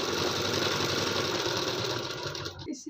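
A sewing machine runs steadily as it stitches a blouse seam, a close, even mechanical whirr and rapid needle clatter that stops abruptly near the end.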